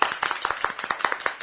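Rapid, steady hand clapping from a group of villagers, crisp and close, a quick run of sharp claps lasting just over a second.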